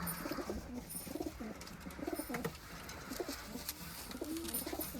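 Lotan pigeons, a feather-footed breed, coo steadily in soft repeated bubbling calls close by, with faint chirps and rustling in the background.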